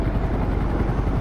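A helicopter sets down at the end of a quay, its steady, loud rotor roar filling the air without pause or voices.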